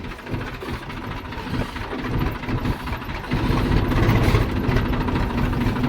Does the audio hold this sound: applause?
no